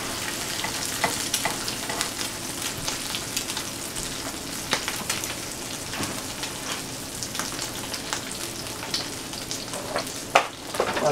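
Eggs fry in a pan with a steady, soft sizzle and fine crackling spatter, continuous and fairly quiet throughout with a few sharper pops near the end.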